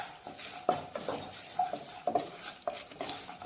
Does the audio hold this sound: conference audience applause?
no